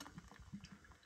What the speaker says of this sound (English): Sorry, I'm pouring a beer